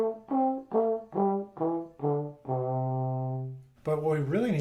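A C pentatonic scale played on a melodic instrument, each note sounded separately in an even ascending run ending on a longer held tone, then a brief different sound at the close.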